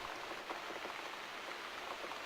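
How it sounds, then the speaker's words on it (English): Steady rain falls in the game The Cat Lady, a dense continuous hiss of drops pattering on surfaces with no pauses and no voices. "Looks like we've got the rain back."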